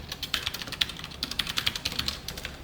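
Fast typing of code on a computer keyboard, with an irregular run of light, crisp key clicks close by that keeps going steadily with no one talking.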